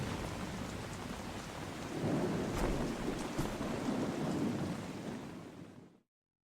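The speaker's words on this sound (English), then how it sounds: "There's a lot of rain out here." Steady heavy rain with a rumble of thunder in the video game Metal Gear Solid 2: Sons of Liberty, a continuous wash of downpour that swells midway and then cuts off abruptly, with no voices.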